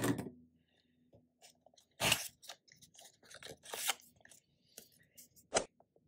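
Knife slicing open the cardboard packaging box of an Onvis Smart Plug S4, several short crisp crunching cuts and rustles, close and moderately loud, with quiet gaps between strokes.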